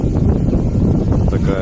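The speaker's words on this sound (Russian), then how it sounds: "Сильный ветер опять поднялся." Strong wind at an old church site buffets the microphone with a loud, continuous low rumble that barely wavers from start to finish.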